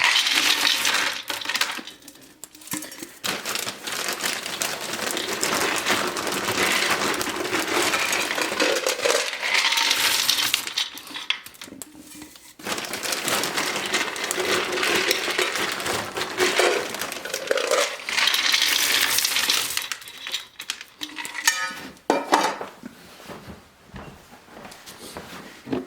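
Wood pellet cat litter tumbles and is stirred around in a litter box, making dense, crunchy, rattling scrapes in long bursts with brief quiet gaps between them, close and fairly loud, with no talking.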